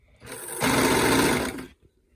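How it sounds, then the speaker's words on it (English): A sewing machine stitches a sleeve onto a bodice in one loud, close, steady burst of about a second, with a short lead-in and an abrupt stop, heard on its own. "I'm just going to hold those together as I'm sewing so that I know it's sewing on evenly."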